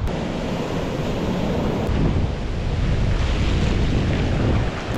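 Large ocean waves rolling in at high tide on Bagda beach, a steady, loud wash of surf with wind buffeting the microphone throughout, no voices.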